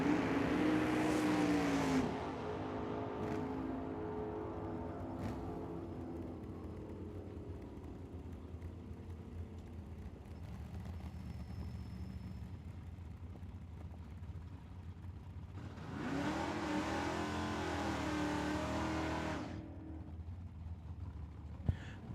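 Drag racing cars launch down the strip at Tucson Dragway, a loud engine roar at the start fading off, then another burst of full-throttle noise a few seconds later, heard from trackside.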